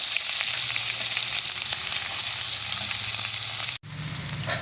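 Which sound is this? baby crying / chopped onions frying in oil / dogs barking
chopped onions frying in oil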